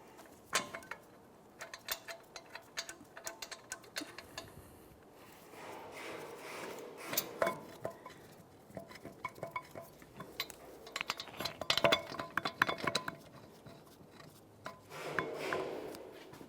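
A wrench ratchets and clicks while steel mounting bolts are tightened into a steering knuckle on a 2007-2018 Jeep Wrangler front end. The metallic clicks and scrapes are faint and irregular, with short pauses between bursts.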